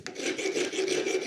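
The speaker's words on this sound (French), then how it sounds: "je vais les faire un tout léger chanfrein juste sur le bord. Donc la lime comme ça" A metal hand file rasps steadily across the edge of a steel tube, putting a light chamfer on it. Close and continuous strokes with no talking.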